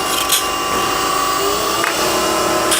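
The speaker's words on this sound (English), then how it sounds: "So now what we'll do is we'll go ahead and use my spindle gouge and we'll shape this." Spindle gouge cutting a wooden box on a lathe, a continuous steady high-pitched whirring scrape at close range with a few brief peaks, and no talking.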